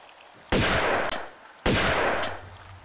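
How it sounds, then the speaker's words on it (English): Two loud, close shotgun blasts in Tomb Raider II Remastered, each a sharp crack followed by a decaying tail, spaced about a second apart. "I want to use my shotgun."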